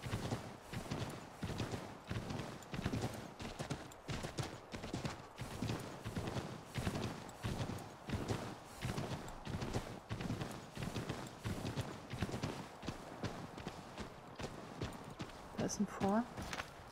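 Horse hooves clip-clopping in the Assassin's Creed 3 video game, a steady trotting rhythm of sharp hoof strikes that continues throughout at moderate volume, with a faint neigh near the end.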